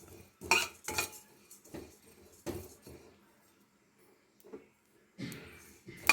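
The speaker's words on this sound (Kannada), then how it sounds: "ಒಂದು ಅರ್ಧ ಕಪ್ ಆಗುವಷ್ಟು ಜೀರಿಗೆಯನ್ನು ಹಾಕಿದ್ದೇನೆ ಇದನ್ನು ಸಹ ಚೆನ್ನಾಗಿ ಹುರ್ಕೋಬೇಕು" About half a cup of cumin seeds dry-roasting in a pan over low heat, with a spoon scraping and clinking against the metal in several short bursts separated by quiet pauses.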